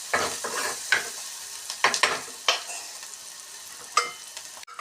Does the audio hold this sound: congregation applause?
no